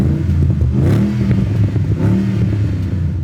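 A supercharged 700 hp Shelby GT500 Mustang engine revs steadily, with a loud, close, sustained exhaust note and rising, falling harmonic sweeps.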